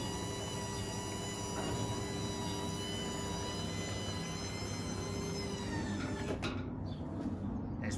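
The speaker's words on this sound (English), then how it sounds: "We have an electric up and over door." An electric up-and-over garage door on a house in Woodley, Reading, running with a steady mechanical drone and squeal that ends abruptly near the finish, with a brief clunk as it stops.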